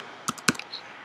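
A short burst of a few crisp clicks on a computer keyboard as a ping command is typed, close and alone.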